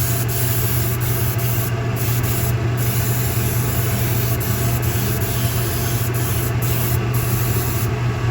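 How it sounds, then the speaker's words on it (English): Aerosol paint sprayed in a steady continuous hiss with brief pauses to weather a load on a G-scale GSC flatcar model train car, loud and close, with no talk. "Just knock it down with a quick coat of this paint."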